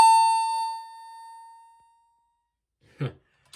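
An EST fire alarm chime gives one clear bell-like tone that rings out and slowly decays over about two seconds, followed by silence and then a brief low thump or voice.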